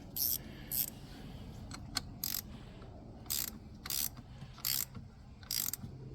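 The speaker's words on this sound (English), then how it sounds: "Go ahead and grab your 10mm wrench." A 10mm wrench snugs a battery terminal on a Toyota 4Runner, its ratchet clicking in short quiet bursts with pauses between, about eight spaced strokes over a soft background hum.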